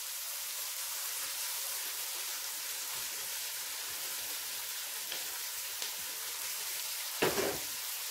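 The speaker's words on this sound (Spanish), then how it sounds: "Bajamos el fuego y a partir de ahora vamos a cocinar a fuego medio bajo. Y ponemos toda la cebolla." Chopped onion sizzles in a pan over medium-low heat while pork cheeks in red wine are being prepared, a steady hissing fry with a few faint stirring clicks and one brief louder scrape near the end.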